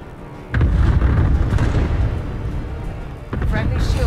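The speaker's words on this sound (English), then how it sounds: "Cluster strike inbound." Heavy cluster strike explosions from the Modern Warfare multiplayer game hit in a loud rolling burst of booms, then fade and erupt again with a second blast near the end, with voices talking over them.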